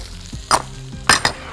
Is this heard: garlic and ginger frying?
yes